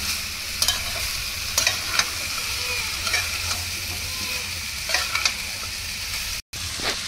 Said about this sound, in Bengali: নেড়ে সমস্ত মশলা মিশিয়ে নিলাম।